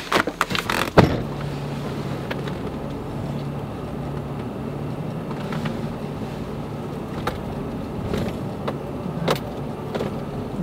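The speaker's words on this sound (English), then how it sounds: "Now we've just started driving" A car just starting out on a long drive, heard from inside the cabin as a steady low rumble of engine and road noise, with a few brief clicks and knocks near the start.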